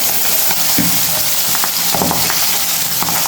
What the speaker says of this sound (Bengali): পাবদা মাছ ভাজার জন্য আমি মরিচ হলুদ লবণ দিয়ে মেখে নিয়েছি কড়াই গরম হয়ে গেছে এখন আমি একটা একটা দিয়ে দেবো